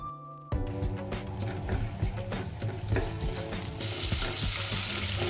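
Whole spices (green cardamom, cinnamon, cumin and cloves) hit hot butter and burst into a loud, steady sizzle that carries on unbroken close by, with faint clinks of stirring underneath.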